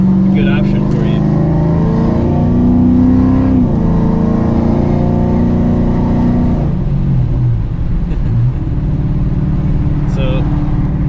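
A 2010 Dodge Challenger with a low-budget custom exhaust rumbles loudly and revs, the engine pitch climbing and then dropping, heard up close and continuous throughout.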